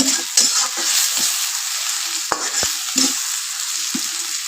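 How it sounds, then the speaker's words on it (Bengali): Onions fry in a pan for a kholisha fish curry, giving a steady close sizzle broken by repeated scraping stirs of a spatula. "পেঁয়াজটা আমি লাল লাল করে ব্রেড নেব একদম লাল বানাবো না"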